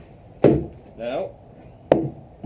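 An old Estwing hammer used as a crowbar prying wood in a tight opening of an off-grid cabin build gives two sharp, close cracks of wood, with a short bit of speech between them and a smaller knock at the end.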